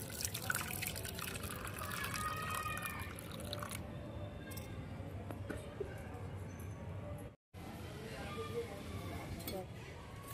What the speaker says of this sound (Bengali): অল্প অল্প জল দিয়ে ডালটাকে ফুটিয়ে নেব।